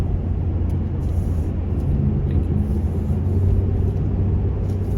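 Road traffic passes nearby as a steady low engine rumble and tire drone, continuous and fairly loud with no talk over it.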